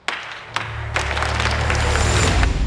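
Applause from a crowd in a Money Heist scene, starting with a few scattered claps and quickly swelling into steady, dense clapping that grows louder toward the end.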